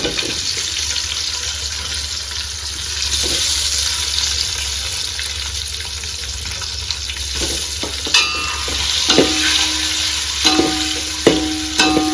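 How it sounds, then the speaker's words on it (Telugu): Half a dozen eggs fry in a pan on a low flame for egg dum biryani, giving a steady close sizzle throughout with occasional sharp clinks and scrapes of stirring near the end. "అందులో 1/2 డజను గుడ్లు అందులో వేస్తాము. వేసుకొని ఒక 5 నిమిషాలు ఫ్రై చేద్దాం."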